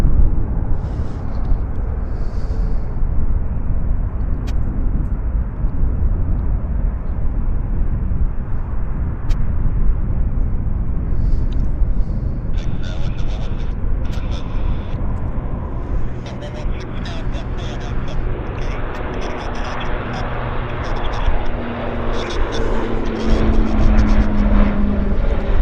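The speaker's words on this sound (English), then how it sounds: "we have Westjet, Q400 on the move." A WestJet Q400 turboprop taxis at Vancouver Airport, a low droning propeller rumble with a rising whine later on, while a voice talks over it at intervals.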